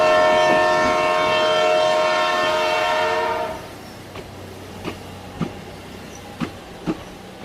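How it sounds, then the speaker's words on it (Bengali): A train at a small rural station sounds a long, loud steady horn that cuts off, followed by quieter scattered clanks and knocks of railway cars in an open setting. "ট্রেনটি 2 মিনিট থেমেই চলে গেল।"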